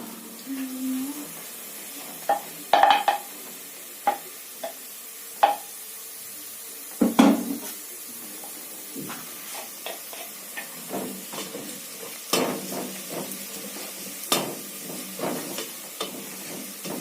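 Onions frying in a pot with ginger, garlic and chili, a steady soft sizzle with a series of sharp scrapes and clacks as a spoon stirs against the pan, spaced irregularly throughout.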